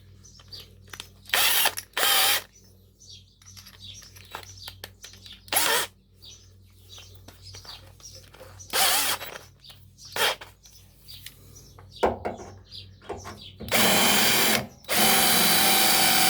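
A power drill with a blunt bit whirs in repeated short bursts, grinding and straining against material, with brief pauses between runs and longer bursts near the end.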